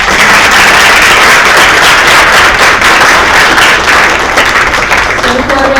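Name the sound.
audience applause for panelists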